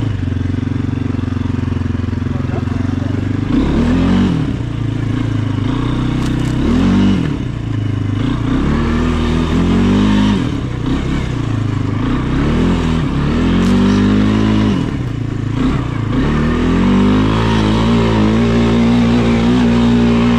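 A motorcycle's small engine revs up repeatedly, climbing in pitch in several bursts, loud and close, with clattering mechanical noise underneath.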